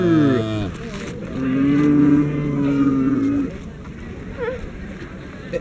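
A cow at Tilden's farm moos in a long, drawn-out call close by, following a shorter lowing at the start, with a child's and adults' voices faint around it.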